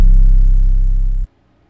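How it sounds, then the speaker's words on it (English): A single loud, deep 808 bass note in a trap-style beat buzzes with distortion for just over a second, then stops dead into near silence. "So the two 808s sound like this."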